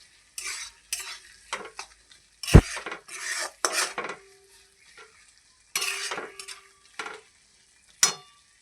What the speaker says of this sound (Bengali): আবার এটাকে আরেকবার নেড়ে চেড়ে নেব।